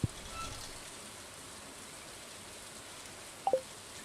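Rain in the video game Stardew Valley, a soft, steady hiss of rainfall throughout, with a couple of brief light clicks near the end.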